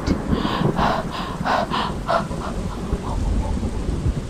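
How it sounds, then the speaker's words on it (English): A thunderstorm with rolling rumbles of thunder and a steady wash of heavy rain, the rumbling swelling and fading in waves over continuous rainfall. "a storm."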